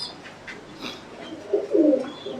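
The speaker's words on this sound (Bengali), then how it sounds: "এখানে আমরা এক জোড়া হলুদ বোম্বাই কবুতর দেখতে পাচ্ছি, সাথে দুটি বাচ্চা আছে" A pair of yellow Bombay pigeons coo softly and close, with low rolling calls swelling near the end, kept with two squabs at a pigeon farm.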